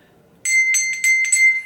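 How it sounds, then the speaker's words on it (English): A small white bell rings in a quick series of bright, clear strikes, about five rings in a jingling rhythm, close and alone after a quiet start. "The white bell."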